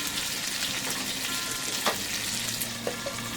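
Green peppers fry in a pan with a steady, close sizzle and occasional stirring scrapes, no talking over it.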